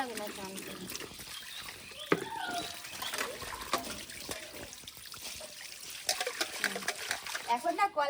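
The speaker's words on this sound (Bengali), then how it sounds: "এইগুলো ধুতে গেলে জলে ভিজে যেতে হয় না সেই জন্য আমি আগে ধুয়ে নিই" Water runs from a tap while items are rinsed under it at an outdoor spot, with trickling and splashing throughout and louder splatters near the end; a voice talks intermittently over the flow.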